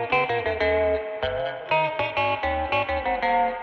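A guitar plays choppy, metallic notes through a ring-modulator effect, producing clangy, bell-like robotic tones in short bursts with brief gaps.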